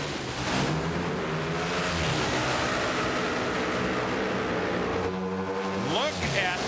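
Harley-Davidson drag racing motorcycles at an NHRA Nationals race in Joliet, Illinois, a loud continuous engine roar with a rising pitch sweep near the end, under steady commentary.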